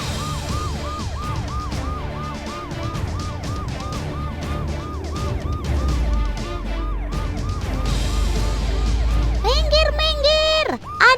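An ambulance passes with its siren wailing in a fast repeating up-and-down pattern over engine and road rumble, growing louder as it nears, with a second, sharper siren burst near the end.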